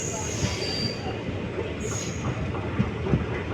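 Passenger train pulling out of Karur Junction, wheels squealing steadily against the rails with faint clatter underneath, loud and continuous throughout.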